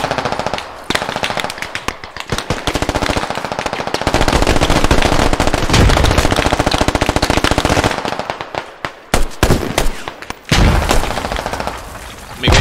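Dense automatic gunfire in the military shooter game Squad, with loud, rapid bursts that run almost continuously and a few short pauses between volleys.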